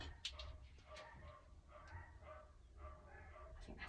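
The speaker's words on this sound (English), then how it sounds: "I think that's my dogs, I can hear barking." Several dogs bark somewhere away from a pottery kiln being unloaded, faint scattered yips and woofs repeating over a low background hum.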